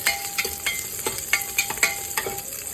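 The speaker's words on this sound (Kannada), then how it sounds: "ಸ್ವಲ್ಪ ನೀಟಾಗಿ ಫ್ರೈ ಆಗಲಿ." Garlic and chopped onion fry in hot oil for brinjal sambar, a steady close sizzle broken by repeated scrapes and clicks of a stirring spoon, with no voices.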